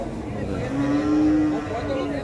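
An ox gives a single loud, drawn-out moo, close by, at a busy livestock market (tiangue) in Nueva Guadalupe, San Miguel, El Salvador, with the low murmur of the market around it.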